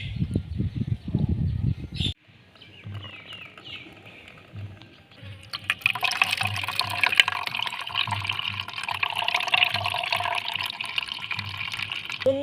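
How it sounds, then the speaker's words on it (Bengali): Homemade Rosna fruit juice is strained through a sieve, giving a steady trickling, pattering pour of liquid with a clatter near the start. "একটা ছাঁকনি নিয়েছি এবার একটু ছেঁকে নিচ্ছি"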